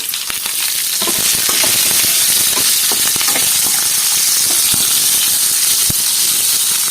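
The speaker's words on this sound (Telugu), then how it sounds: "ఇప్పుడు కట్ చేసి పెట్టుకున్న ఉల్లిపాయ ముక్కలను వేస్తున్నానండి" Chopped onion and green chili hit a hot pan and sizzle loudly and steadily up close, with scattered crackles and light stirring throughout.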